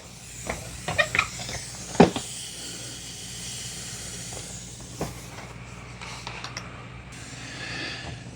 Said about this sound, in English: now it's just continuously making steam coming out the bottom